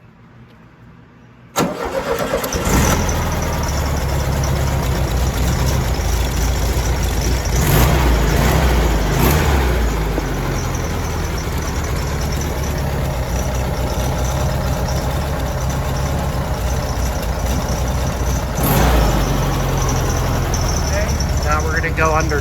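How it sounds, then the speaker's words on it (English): A VW Beetle engine catches from a cold start and settles into a steady, loud idle that runs on unbroken, with a couple of brief surges and people talking nearby. "Very nice running engine. Still needs to warm up."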